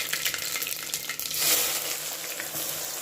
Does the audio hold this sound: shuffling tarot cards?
no